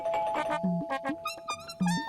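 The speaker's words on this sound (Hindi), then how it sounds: "नहीं नहीं, सपने में नहीं, सच में कोई डोरबेल बजा रहा है।" A doorbell chime sounds repeatedly in a busy indoor mix, with bright ringing tones recurring over a steady background hum.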